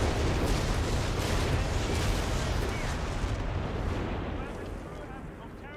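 Whizbang rocket artillery fires in Company of Heroes 3, a dense roaring barrage of rapid launches and blasts that slowly fades, loud and continuous.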